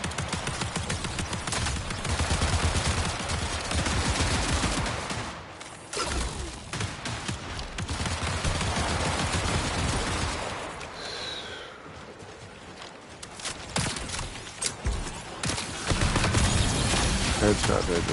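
Gunfire in the PS5 shooter Marathon: loud, dense bursts of rapid shots and impacts that keep coming with brief lulls, with a player's voice over them.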